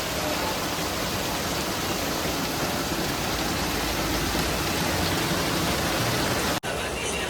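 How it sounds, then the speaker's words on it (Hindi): Dense, steady rush of heavy rain, loud and continuous throughout, cutting out abruptly for an instant near the end. "कितनी तेज बारिश हो रही है।"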